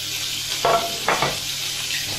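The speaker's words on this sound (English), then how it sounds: "So you'll see that I added the steaks away from me in the pan." Steaks searing in a hot frying pan, a steady close hiss with two short louder bursts of sizzle.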